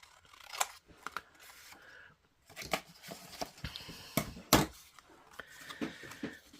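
Scissors snip through paper while a weekly collage challenge journal is assembled, giving a series of close, crisp cuts and rustles in irregular bursts, with soft handling sounds and brief pauses between them.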